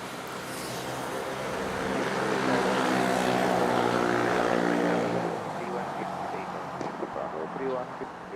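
An aircraft at Manila airport roars with propeller-like engine drone that swells to a peak midway and then fades, loud and steady, with radio chatter underneath.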